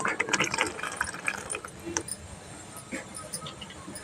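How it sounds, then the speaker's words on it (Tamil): Water is poured into a pan of egg gravy with tomato and garlic while it cooks, a brief splashing fill fading into a quieter bubbling simmer. "தண்ணி சேர்த்திக்கலாங்க."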